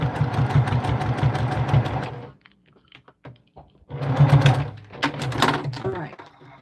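A sewing machine stitching through fabric and batting for a bowl cozy: rapid rhythmic needle hammering in two close, steady runs separated by a short pause, with a person talking alongside.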